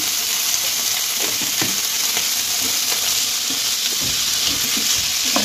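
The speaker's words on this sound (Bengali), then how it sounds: "এবার সবজিগুলোকে ভালোভাবে একসঙ্গে ভেজে নেব।" Carrots, beans and other vegetables for veg fried rice stir-fry in a pan with a pinch of salt, giving a steady close sizzle broken by scraping stirs and spatula clacks throughout.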